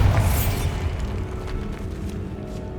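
A Bombarda spell explodes in Hogwarts Legacy with a loud, low boom at the start that fades into a sustained rumbling wash of debris and noise.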